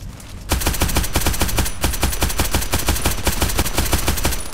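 An H&K UMP45 submachine gun fires in Contract Wars, a loud rapid string of evenly spaced shots in quick bursts, sharp and close, with only a brief gap near the start.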